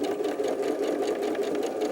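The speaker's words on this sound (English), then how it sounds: "Take that to your sewing machine" A sewing machine stitches a Hunter's Star quilt block with a fast, steady mechanical whir that runs close and unbroken throughout.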